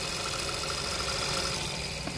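A Seat Ibiza 1.2 TSI petrol engine idles steadily with a low, even hum and faint mechanical vibration, heard close and alone with no talking.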